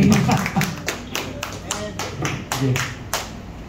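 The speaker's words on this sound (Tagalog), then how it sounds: "Isang malakas palakpak pa sa ating Panginoon buhay" A church congregation clapping during worship, with several loud, distinct claps in an uneven rhythm over a voice speaking and a low murmur of people.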